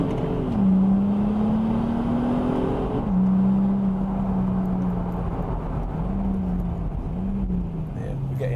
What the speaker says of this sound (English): Shut up, you noisy car.